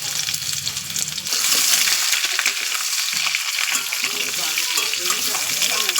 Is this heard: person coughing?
no